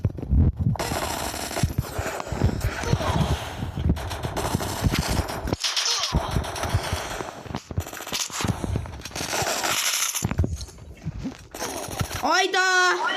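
Video game gunfire cracks in rapid bursts and scattered single shots, loud and close, mixed with continuous talk from players.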